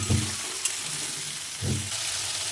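Soybean chunks with ginger paste, pumpkin, ridge gourd and potato sizzle in a hot pan. The steady frying hiss runs throughout, broken by two short stirring scrapes near the start and at the midpoint.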